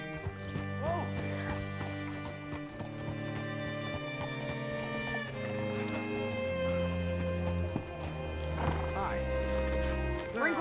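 Horse hooves clip-clop in Red Dead Redemption 2 alongside a whinny, set under music in the game and partly under talk.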